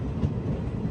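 A new DEMU train between Secunderabad and Siddipet rumbles along with a low, steady rolling drone and faint clatter, heard briefly on its own without talk.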